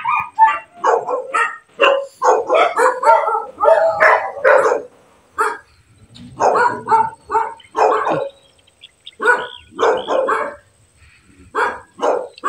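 Dogs bark repeatedly in loud, close bursts at a city veterinary office, with short pauses between volleys and occasional yips.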